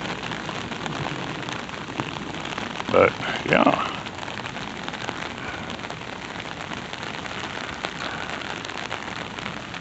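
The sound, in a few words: rain falling during a thunderstorm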